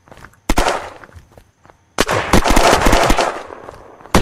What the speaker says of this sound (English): Is he shooting at you? Yeah, he's shooting at you.